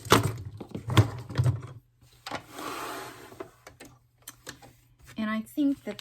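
A sewing machine threaded with green thread stitches in short mechanical bursts, with a steady low hum running underneath and a person talking between and over the runs.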